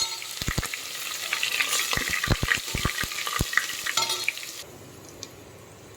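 Cumin and green chili paste frying in hot oil, a bright close sizzle punctuated by a rapid run of spoon taps and scrapes against the pan, then settling into a quieter, steadier hiss.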